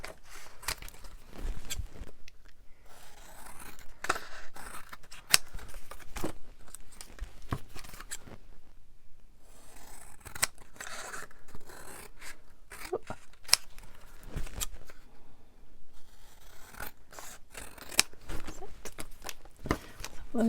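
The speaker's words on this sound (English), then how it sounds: "let's use the scissors in case they're still gloopy" Intermittent snips and rustles of scissors cutting paper and playing cards, close by, in irregular bursts with quiet gaps between.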